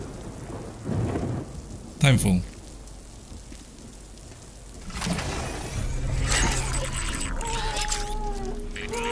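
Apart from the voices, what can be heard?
rain in the video game Death Stranding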